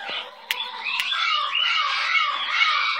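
A pet baby bird squawks and chirps continuously and up close, a busy, shrill stream of calls with a couple of sharp clicks near the start.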